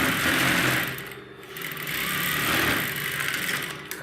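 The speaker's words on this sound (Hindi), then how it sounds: "तो ये बिल्कुल शानदार तरीके से बिल्कुल सीधी सिलाई हो जाती है।" Sewing machine stitching a kanchli blouse, a steady close rattling hum that runs continuously with slight speed changes and a brief dip.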